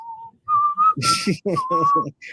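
A person whistles a short, bright tune in clear sustained notes, a few steady held tones followed by a quicker run, close and loud against silence, with brief breathy gaps between phrases.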